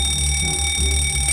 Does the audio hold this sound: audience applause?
no